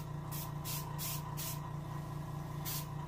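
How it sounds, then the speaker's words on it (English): Airbrush spraying paint onto a chum salmon taxidermy mount, a steady close hiss with several short bursts of spray layered over a constant compressor hum. "You may want to concentrate your spray to get it accurate."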